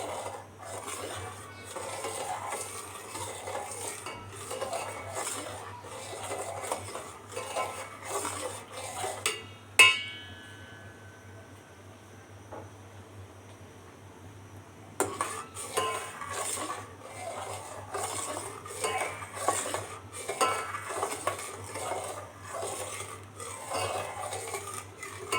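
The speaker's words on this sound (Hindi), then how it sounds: "सही से हम इसमें चम्मच घुमाएंगे और हिलाते रहेंगे, ताकि शुगर भी डिज़ोल्व हो जाए।" A spoon scrapes and circles steadily inside a pot of kulfa milk mixture with sugar, a continuous rasping metal-on-pot stir with a sharp clink and a brief lull midway before the stirring resumes.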